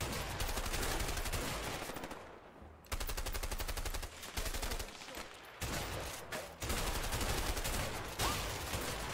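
Rapid automatic gunfire in the co-op video game A Way Out, dense sustained bursts of shots broken by a few short pauses, loud and close with no talk over it.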